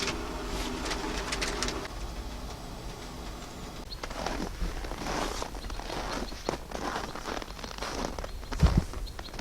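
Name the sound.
birds chirping in winter forest at sunrise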